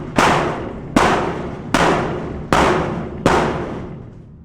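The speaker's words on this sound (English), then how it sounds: "I have a slightly heavier hammer." Five heavy hammer blows strike the metal of a portable office container at a steady pace, each a sharp, ringing impact that decays before the next, loud and close with no talk.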